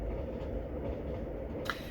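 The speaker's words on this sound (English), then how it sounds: "as I hear my train zipping by" A train rumbles steadily past outside, a constant low roar that fills the background from start to end, with no voices over it.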